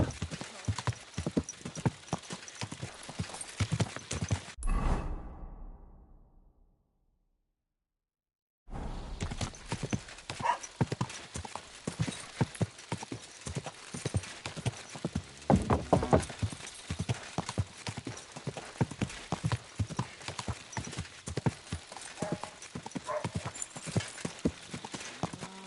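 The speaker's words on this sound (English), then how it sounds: "Easy, good horse." Horse hooves clip-clop in steady rhythm in the video game Kingdom Come: Deliverance, close and distinct, stopping for a few seconds of silence before the hoofbeats resume.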